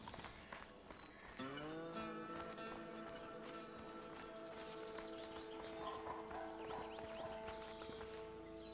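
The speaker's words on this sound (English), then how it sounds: "there's cow in the hay with the barn." A cow moos in a barn within the video game A Way Out, a long sustained low call that rises in pitch and holds steady, loud and close, with no talk over it.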